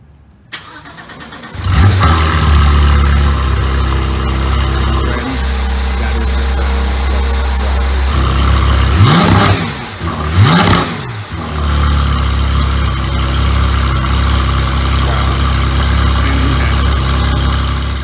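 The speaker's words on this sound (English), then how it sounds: "let's really see what a Flat 6 sounds like" A flat-six car engine starts up and settles into a loud idle. It is revved sharply twice in quick succession, then drops back to a steady, throaty idle.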